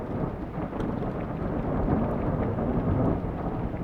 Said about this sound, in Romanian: dar plouă afară, nu e glumă